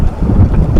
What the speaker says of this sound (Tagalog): Grabe naman alon ito.